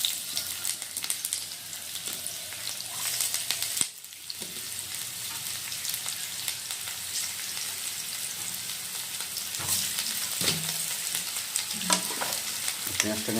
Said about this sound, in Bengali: পেঁয়াজটা কিন্তু আমি ভালো করে ভেজে নেব